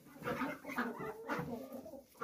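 Young roosters and hens in a coop make low, murmuring clucks and overlapping throaty calls, continuous and fairly close, with no talking.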